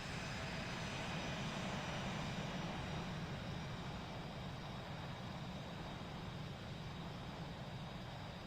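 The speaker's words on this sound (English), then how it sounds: "runway 19, you're clear for takeoff" Steady broadband roar of a Leonardo MD-83 airliner's engines during takeoff in the Prepar3D flight simulator, loud and unbroken for the whole stretch, with no voices.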